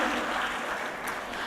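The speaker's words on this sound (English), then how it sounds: "Please have a round of applause to Professor Heydarian" Sustained audience applause for a professor at a conference on ASEAN, a thick, even wash of clapping from a full hall throughout the short moment.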